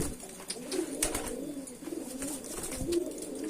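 Racing pigeons coo steadily through a courtship drive in their loft, the soft, throaty calls overlapping in a continuous low murmur with no talking.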